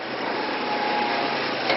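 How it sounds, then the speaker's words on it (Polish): A Romet Ogar 200 moped engine runs steadily with a high, buzzing drone, close and continuous, with no voices. "Jedziemy i to z fasonem. W końcu to słynny motorower Romet Ogar 200"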